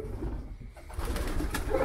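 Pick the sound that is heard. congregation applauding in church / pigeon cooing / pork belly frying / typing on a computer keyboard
pigeon cooing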